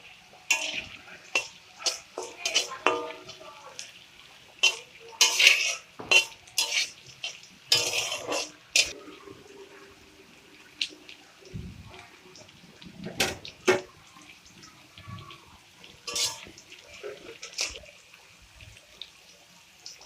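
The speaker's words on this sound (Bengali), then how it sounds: "প্রথমে গাজরটাকে আমি একটু ভেজে নেব। তারপর আমি একে একে সব সবজিগুলো দিয়ে ভেজে নেব।" Carrot and mixed vegetables frying in a pan for Bengali fried rice, with a spoon scraping and clinking against the metal in irregular bursts over a soft, steady sizzle.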